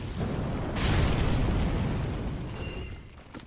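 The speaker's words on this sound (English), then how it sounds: "Lighting slugs on fire is the height of entertainment." Slugs set ablaze in Dark Souls 3, a sudden whooshing burst of flame that swells into a roaring rush and slowly fades, with a faint high tone lingering at the end.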